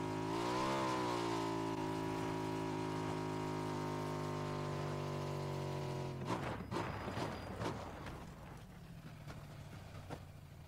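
A motorbike engine in the PUBG video game drones steadily and loudly with a rising rev at the start, then gives way to bursts of clattering noise as the engine fades.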